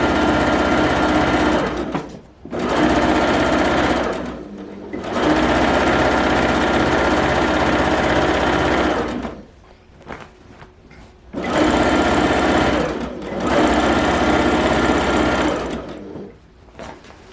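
Sewing machine stitching a diamond pattern into a quilt, running in long loud continuous whirring bursts broken by brief pauses and stops, close up, with no talking.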